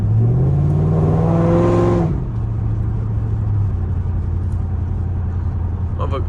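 A Dodge Charger R/T with longtube headers, heard at night from inside with the window down: a loud exhaust note climbs for about two seconds, then drops into a deep, steady droning burble.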